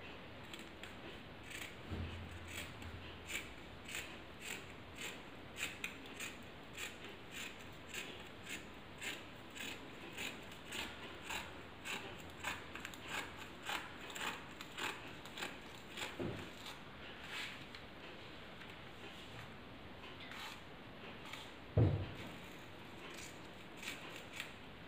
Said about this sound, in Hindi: अभी जो हमने ये काट का निशान लगाया है, इसकी कटिंग करेंगे हम।